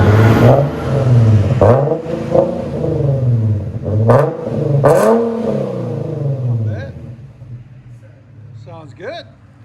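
A 2014 Infiniti Q50 3.7L with dual exhaust and muffler delete revs hard several times in close, loud, rumbling blips, then settles toward a quieter idle.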